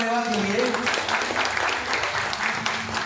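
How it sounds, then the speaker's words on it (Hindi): Audience applause at an Oreva wristwatch launch event, a steady blended clapping wash under an amplified announcer's voice that speaks over the first moments. "तालियां हो जाए ओरेवा के लिए।"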